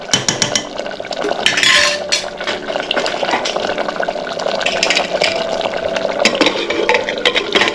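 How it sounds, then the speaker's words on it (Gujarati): A spoon stirs mixed vegetable curry in a pressure cooker pot, with steady scraping and clattering against the metal throughout, loud and close, with no talking. "હવે આપણે એને એકવાર હલાવી લઈએ"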